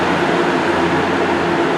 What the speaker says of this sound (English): It's a rail grinder.